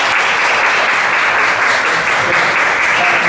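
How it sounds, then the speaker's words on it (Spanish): Loud, dense applause from an audience at an advanced technology seminar, a continuous close wash of many hands clapping with no voices over it. "Yo quisiera un fuerte aplauso,"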